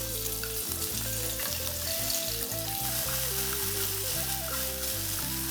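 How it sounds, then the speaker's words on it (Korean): Paprika frying in two tablespoons of oil in a frying pan, a steady dense sizzle running throughout, close and loud, with light background music playing underneath. "프라이팬에 기름 2테이블스푼을 넣고 파프리카를 볶아줍니다."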